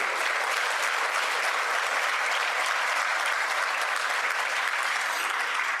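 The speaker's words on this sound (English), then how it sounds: "Please give him a round of applause for being here today." A Rotary meeting audience applauds its assistant chief, steady dense clapping filling the room from start to finish, loud and even, with no voices over it.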